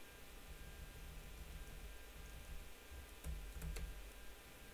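Faint computer-keyboard typing, a few light taps and clicks in a short burst near the end, sits under a constant background hiss; no speech.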